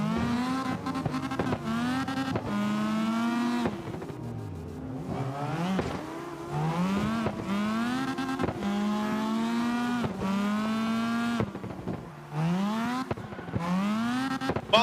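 A high-revving video game race car engine roars continuously, pitch climbing and dropping as gears shift, with occasional tire squeals; loud and close, no talking.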